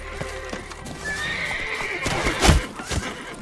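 Roach, Geralt's horse in the video game The Witcher 3, galloping with rhythmic hoof clip-clops, a loud whinny partway through and a heavy thump near the end, close and loud.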